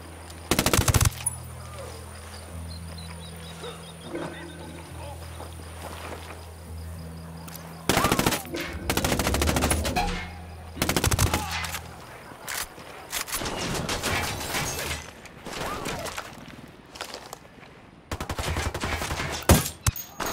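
Gunfire in Ghost Recon Wildlands comes in several loud bursts of rapid automatic shots, some short and some sustained, spread across the clip with quieter gaps that carry ambient sound and a low engine hum.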